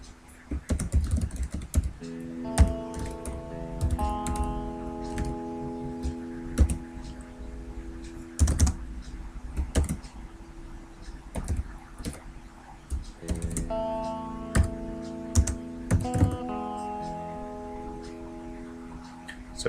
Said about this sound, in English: and type our formula in.